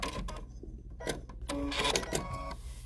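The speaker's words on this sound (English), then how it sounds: "I'm going to sew right off the end." A sewing machine stitches quilt fabric for a double wedding ring quilt, a close mechanical chatter in uneven bursts with brief stops and clicks between runs.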